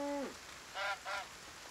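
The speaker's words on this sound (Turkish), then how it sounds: "Ördek galiba." A duck in the video game Force of Nature II giving a few short nasal honking quacks, one brief call followed by a pair in quick succession, faint over a quiet background.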